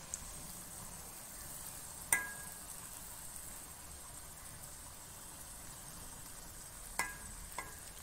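Barnyard millet athirasam, a sweet dough disc, sizzles steadily in hot oil while it is turned on both sides, with a few sharp utensil clinks standing out from the even frying hiss.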